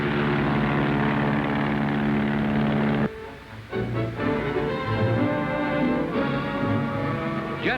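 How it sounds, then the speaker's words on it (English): Navy aircraft taking off with strapped-on jet propulsion units in a 1944 wartime newsreel, a loud, continuous engine drone with strong harmonic tones that cuts off abruptly and resumes as a varying roar. "Jet propulsion device designed to get Navy aircraft into the air faster, with heavier loads, and in less space."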